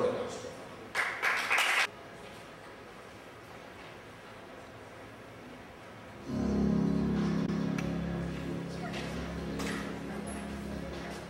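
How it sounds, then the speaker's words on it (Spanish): A graduating class's ceremony crowd breaks into sustained applause after a quiet stretch, a broad steady wash of clapping, with a few sharp sounds early on before it. "acompañemos con un fuerte aplauso"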